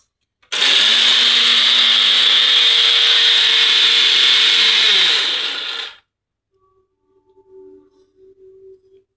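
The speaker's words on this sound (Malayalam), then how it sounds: "ഇപ്പോൾ രണ്ടാമത്തെ ഭാഗം കൂടി നമ്മൾ അരച്ചെടുക്കാൻ പോകുകയാണ്" An electric mixer grinder whirs loudly while grinding prawn chutney powder into a paste, running steadily for about five seconds before winding down, followed by a few faint clicks and tones.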